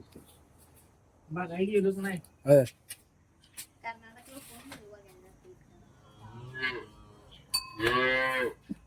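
A big Khillar bull at a cattle purchase lets out a drawn-out low moo, then another near the end, close by, with scattered clanks and knocks between the calls.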